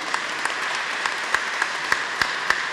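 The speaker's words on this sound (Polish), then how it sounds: "Firma Marpol i państwo Kargolowie, brawa, wyjątkowe brawa." Audience in a basilica gives applause to sponsors at a concert, with a soft, diffuse wash of clapping and occasional sharper individual claps standing out at a moderate distance.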